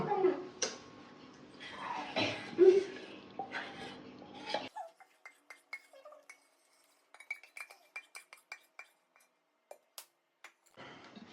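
Melted chocolate and butter stirred into beaten egg and sugar for brownies, giving soft clinks and taps of a utensil against a bowl, with talk and busy kitchen noise in the first half.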